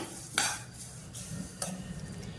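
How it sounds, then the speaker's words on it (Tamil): Curry leaves and drumstick leaves are dry-roasted and stirred in a pan for a spice powder. Soft rustling stir sounds and a few light scrapes of a spoon against the pan are heard, fairly quiet. "கருவேப்பிலை சேர்த்து ரெண்டையும் சேர்த்து வறுத்துக்கோங்க"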